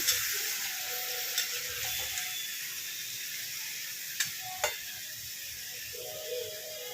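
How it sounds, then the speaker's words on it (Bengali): Chicken dopiaza cooking down in a pan with a little water, giving a steady soft sizzle with occasional scraping stirs and a couple of sharp utensil clicks, no talking. "চলুন ভালো করে কষে নিই"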